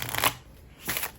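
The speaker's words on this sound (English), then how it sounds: "riffle shuffle." A riffle shuffle of a small 36-card deck gives two quick, close bursts of crisp flapping card riffles, separated by a short pause, with no talk.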